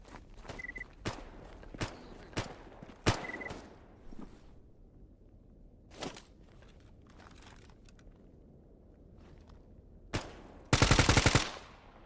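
Gunfire in the shooter game GAMMA: a string of sharp, separate shots spaced irregularly over the first seconds, a few scattered later, then a loud rapid automatic burst near the end, with quieter footsteps and movement between.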